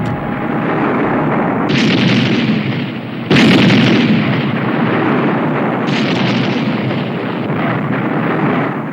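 Continuous heavy rumbling blasts with sharp, booming bursts, loud and close, roaring without pause like violent volcanic explosions as lava pours out near the sea surface.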